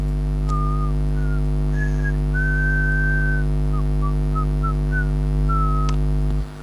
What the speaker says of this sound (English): I went to my cell whistling the Godfather tune